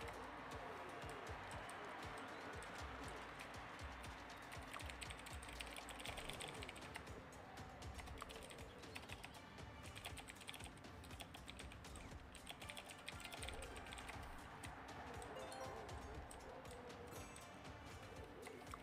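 Rapid, continuous clatter of keys on a computer keyboard, close and busy with dense irregular clicks and faint background noise.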